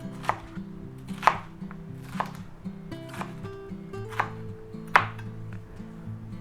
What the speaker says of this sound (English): And we'll chop this up.